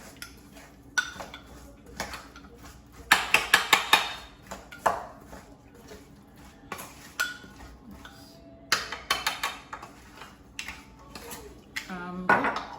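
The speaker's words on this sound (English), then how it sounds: "we're putting the mixture of the butter and herbs and seasoning on our potatoes, and I'll mix it all up like so" Breakfast potatoes being tossed with a butter, herb and seasoning mixture, giving irregular clinks and scrapes of a utensil against a bowl, with bursts of rapid clattering between quieter pauses.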